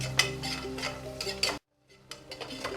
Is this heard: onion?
yes